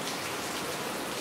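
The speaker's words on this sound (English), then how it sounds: "But it's raining right now" Steady rain falls outside in a dense, continuous hiss with no voices or other sounds standing out.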